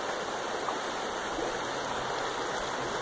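A woodland creek runs with a constant, close, full rushing flow, steady and unbroken with no voices over it.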